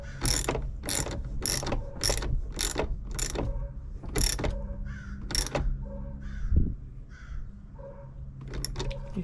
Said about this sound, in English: Now we're just gonna snug up this 10mm bolt, or the nut on this end of the bolt.